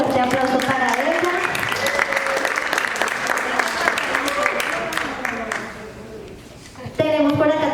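Crowd applause for a guest at a live community event, dense clapping filling most of the clip before fading, with a voice speaking over it.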